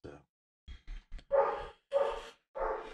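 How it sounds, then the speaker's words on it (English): Loud dog barking nearby, several sharp barks spaced about half a second apart, with a few shorter yips before them, standing alone against quiet. "The loud dog's here today."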